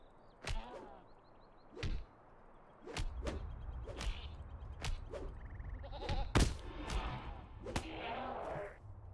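Goats bleating in the video game LOTRO amid combat, with sharp whip-like impacts and short bleats recurring every second or two over a steady low rumble of game ambience.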